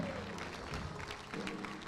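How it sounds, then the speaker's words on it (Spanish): A church congregation applauds during a sermon: steady, dense clapping from a crowd with a faint voice underneath, filling the short moment at an even level. "Por favor, dale el aplauso al Señor."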